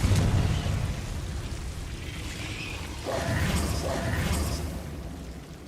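A Confringo fire spell bursts in Hogwarts Legacy: a loud rumbling blast with a whooshing roar that dies down, then swells again midway, close and full.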